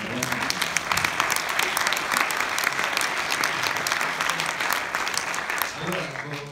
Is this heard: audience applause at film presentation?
yes